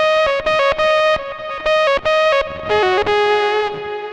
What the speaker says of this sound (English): I'm starting with factory patch GR-300 lead